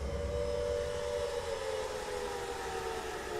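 A steady, droning siren-like wail in the video game Silent Hill Origins holds a sustained tone over constant low rumbling noise, with no voices.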